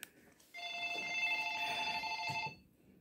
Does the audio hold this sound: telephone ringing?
yes